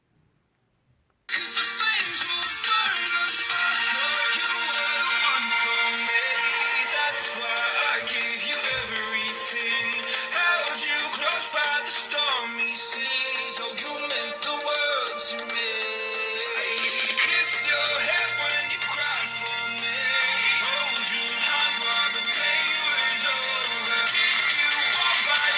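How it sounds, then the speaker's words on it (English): An Umidigi Z2 smartphone speaker plays audio at maximum volume, a continuous bright and thin music-like sound that starts abruptly after a short silence and runs steadily to the end. "first we'll do a quick speaker test to see how good the sound is on this phone"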